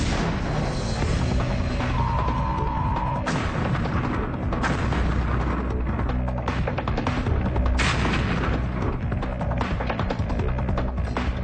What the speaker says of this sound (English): you can see the rocket in flight towards the building. I set the Matador to blast mode. The first blast makes the hole.